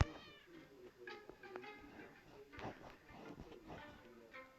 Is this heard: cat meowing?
yes